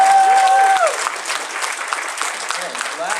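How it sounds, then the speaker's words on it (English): An audience at the opening ceremonies of a furry convention breaks into loud applause that gradually thins, with a few voices and a whistle-like tone near the start. "round of applause"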